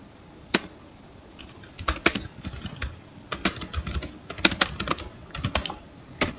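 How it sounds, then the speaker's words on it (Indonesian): Quick, uneven bursts of keystrokes clatter on a computer keyboard, close and clear, with brief pauses between runs of typing and no voices. "Mungkin saya akan ketik di sini"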